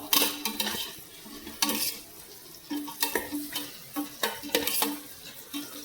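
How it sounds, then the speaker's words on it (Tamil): Onions sautéing to golden in a pan for chicken leg piece biryani, a close sizzle broken by irregular scraping and clinking strokes of a spatula against the metal pan, about a dozen stirs in quick succession. "வெங்காயம் பொன்னிறமாக வதக்கும்."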